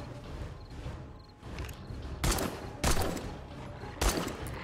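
Gunfire in the video game 7 Days to Die, three separate sharp shots spaced about a second apart over a busy, rumbling game background.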